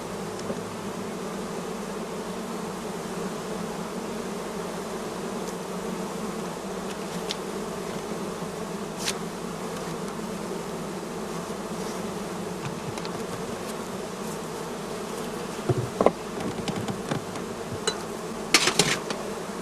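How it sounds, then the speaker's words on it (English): Honey bees hum steadily around an opened hive, a dense continuous drone close by, with a few sharp knocks and clicks near the end. "Next, we open the entrance holes and let the bees fly."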